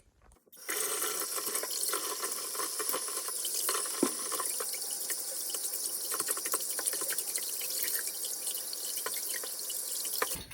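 Tap water runs steadily into a sink while glue is rinsed off glass bottles, with occasional clinks and splashes over the constant hiss.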